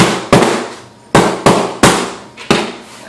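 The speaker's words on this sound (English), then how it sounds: "a couple of good thumps" Five sharp, loud thumps at uneven intervals as a bag of grain spawn with oyster mushroom mycelium is whacked down onto boat cushions laid on concrete, each impact a broadband hit with a short decaying tail.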